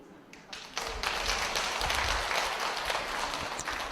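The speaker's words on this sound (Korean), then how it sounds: "박수" A room of people breaks into applause, a dense burst of clapping that swells quickly and continues steadily.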